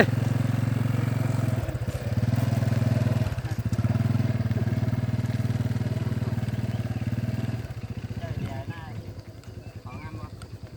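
A motorcycle engine drones steadily at close range in a rural Thai setting, its low putter dropping and then tailing off near the end while people talk over it.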